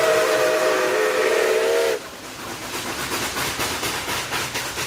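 A steam train whistle used as a sound effect, blowing one long loud steady blast, then cutting off into rhythmic chuffing and hissing of the moving locomotive.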